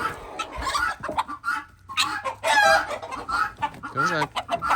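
Backyard chickens clucking and squawking loudly close by in busy, overlapping bursts, with one bird giving short crow-like calls.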